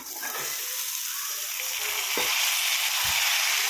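Beetroot frying in a pan with salt and a little turmeric gives a steady, close broadband sizzle throughout, with a few soft low knocks of stirring.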